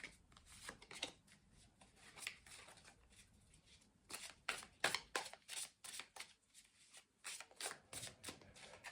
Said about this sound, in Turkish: Şu desteden de size bir kart seçmek istiyorum yüksek benliğimden.